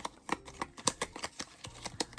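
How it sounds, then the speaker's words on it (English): Playing cards shuffled in quick, crisp flutters and riffling taps, close and quiet, with no talk. "let me shuffle these up again"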